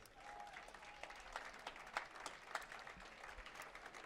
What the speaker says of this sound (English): how about another round of applause for all of our bowlers here today?